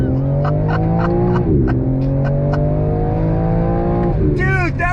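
A 2022 BMW M4 Competition launches hard off the line, its engine rising loud and close through climbing revs with a quick gear-change dip, while people talk over it and a voice exclaims near the end.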